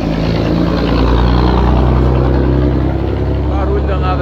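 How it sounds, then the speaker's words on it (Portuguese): Truck passing on a nearby road, a loud continuous engine rumble and drone that fills the clip with no break, heavy low-end roar and no speech over it. "barulho danado aqui passando o caminhão"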